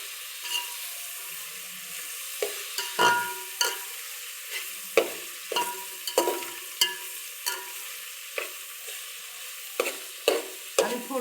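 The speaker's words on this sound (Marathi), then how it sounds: "असा थोडा कांदा भाजत आला ना" Onion frying in a pan for biryani, a steady oily sizzle punctuated by repeated spatula scrapes and taps at irregular intervals, close and clear with no voices.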